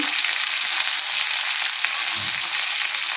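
Spices sizzling and frying steadily in a pan for a Bengali mixed vegetable dish, a close continuous crackle with a brief low stir or scrape partway through.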